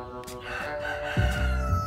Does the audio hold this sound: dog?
no